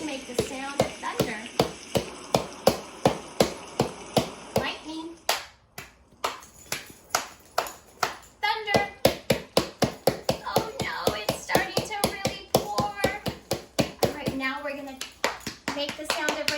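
Children stomp their feet to imitate thunder during a rain storm sound game, making a dense run of close, sharp thumps and slaps that swells in the middle, while a voice talks over much of it.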